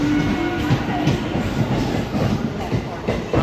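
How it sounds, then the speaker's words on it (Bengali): A Bardhaman local train rolls out of Bandel Junction station, giving a steady, loud rumble with rhythmic wheel clatter close by on the platform. "আচ্ছা, এই যে গাড়িটা বেরিয়ে যাচ্ছে এই গাড়িতে করেই এসেছি আমরা"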